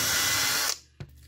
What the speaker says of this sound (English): the holes just get drilled into this piece, not all the way up into the hat